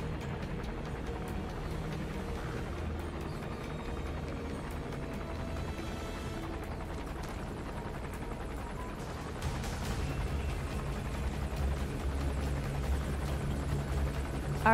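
In the Metal Gear Solid V video game, a helicopter flies overhead as a steady, broad rotor-and-engine roar that holds for the whole stretch and grows slightly louder near the end, with no voices.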